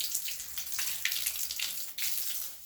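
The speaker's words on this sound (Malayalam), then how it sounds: "നമ്മൾ നൈസായിട്ട് വെള്ളം ഒഴിച്ചൊഴിച്ച് വിടുവാണ്" Water is poured into a fish tank in a gentle, steady splashing stream, close and fairly soft, with small surges in flow and no talking.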